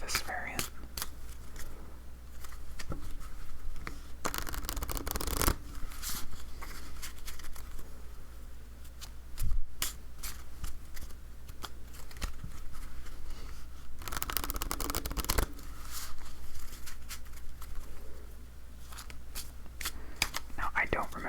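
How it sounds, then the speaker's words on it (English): Playing cards shuffled for a game of Flower Garden solitaire, several bursts of rapid riffling and rustling scattered through, with soft close-up handling and tapping of cards between them under a quiet voice. "If you like the shuffling sounds, you're going to get a lot of that for this variant."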